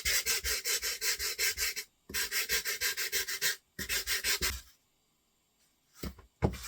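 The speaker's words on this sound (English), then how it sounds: "I'm just sanding it down using 100 grit sandpaper." Wood for a DIY hat block sanded by hand with 100 grit sandpaper, close rhythmic back-and-forth rasping strokes in three quick runs separated by short pauses, then a couple of isolated scrapes.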